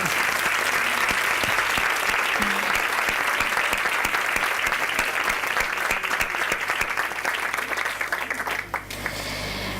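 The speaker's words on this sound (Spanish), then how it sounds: "Un aplauso." An audience at a women's gala in Alicante breaks into loud, sustained applause that fills the room and holds steady for nearly ten seconds before tapering off slightly at the end.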